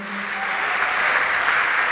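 A church congregation applauds, a dense, steady wash of clapping that stays full and loud through the short stretch with no voices over it.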